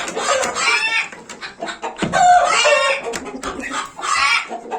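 Chickens cluck nearby in repeated bursts at close range, with one sustained higher call in the middle; no other voices are evident over the birds.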